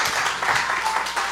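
Church congregation clapping during a Wednesday service, a brief burst of dense applause, loud and close throughout.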